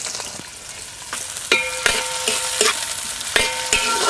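Three large chopped onions frying in hot oil for mushroom pulao give a close, crackling sizzle, punctuated by repeated sharp metallic clanks and scrapes of a spoon stirring against the pan, and no voices.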